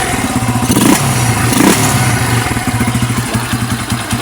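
Raider motorcycle engine with stock carburetor and ram air, a Viperman 150 setup, running loud and close with a steady throbbing idle broken by two sharp throttle blips early on.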